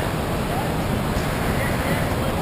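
Rapid number nine on the Zambezi River gives off a constant, dense roar of churning whitewater, loud and steady throughout, with wind buffeting the microphone and no distinct voices.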